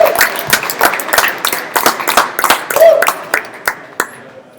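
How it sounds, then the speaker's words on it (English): A live audience claps for a guest, with sharp, distinct hand claps at close range that thin out toward the end, and some background voices mixed in. "please help me give a huge round of applause"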